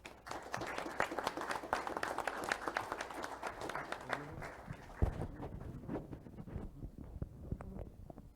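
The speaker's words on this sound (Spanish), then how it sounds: "Lo dejo entonces con Alfredo Calle, para el cual pido un aplauso, por favor." Audience applause at a talk on energy efficiency in Peruvian freight transport, a moderate crowd clapping in quick irregular bursts that thin out and fade toward the end.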